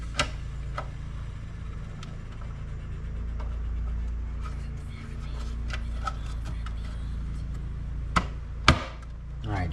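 Plastic projector shroud clips snapping into an E46 BMW M3 Touring headlight housing during a Bi-LED retrofit, a few sharp close clicks spread over a low steady hum, the loudest snaps near the end.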